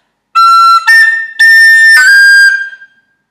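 A whistle plays sections one and two of the Irish tune Scatter the Mud, a loud, clear run of bright sustained notes in a few phrases before silence.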